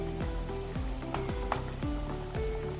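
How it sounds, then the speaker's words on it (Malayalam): Snacks fry in hot oil in a kadai on a gas stove, giving a steady, close sizzle and crackle with no voices. "ഓയിൽ ചൂടായി നമുക്ക് ഓരോന്നായി പലഹാരം ഇട്ട് കൊടുക്കാം"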